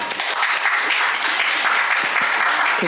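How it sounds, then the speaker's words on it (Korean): An audience at a KAIST professor's science communication talk breaks into steady, dense applause lasting the whole stretch, many hands clapping together at an even, sustained level. "큰 박수 부탁드립니다"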